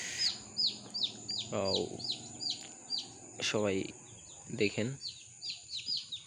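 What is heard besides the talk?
quail chicks and chickens chirping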